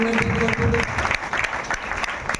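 Applause from a congregation at a New Year church service, a steady spread of clapping that runs throughout at moderate level, with a brief tonal voice or instrument sound near the start.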